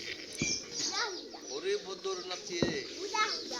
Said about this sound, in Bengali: দেখছেন, সবগুলো কবুতর কিন্তু নামছে